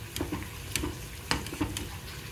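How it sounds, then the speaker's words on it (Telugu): Theepi pongadalu, sweet fritters, deep-frying in hot oil until golden brown, a quiet steady sizzle broken by a few soft stirring clinks, close by with no voices. "ఇలా గోల్డెన్ బ్రౌన్ కలర్ వచ్చే వరకు వేయించుకోవాలండి"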